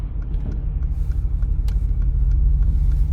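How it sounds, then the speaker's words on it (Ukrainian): A 2017 Mercedes G-Class SUV with 54,000 km on it, recently serviced, drives along with a steady low engine and road rumble heard from inside, broken by faint light clicks. "Хто хоче собі цілого геліка, обслуженого, цілого, з пробігом 54 тисячі кілометрів, він ось, я на ньому їду"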